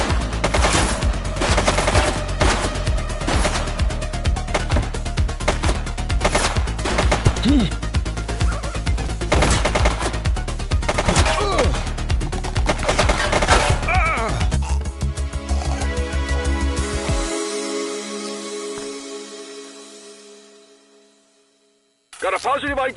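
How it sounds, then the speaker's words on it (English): Sustained rapid gunfire in the police video game The Precinct, loud and dense for most of the stretch with game audio layered in, then fading out near the end before a brief return. "He's shooting!"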